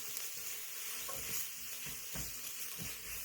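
A spoon stirs tomato paste into chili in a hot pot, making soft, rhythmic scraping and squelching strokes over a quiet sizzle; no voices.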